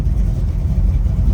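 The 572 crate motor in a 1971 Chevrolet Chevelle runs with a deep, steady, rumbling idle, loud and close, in a brief stretch with no talking.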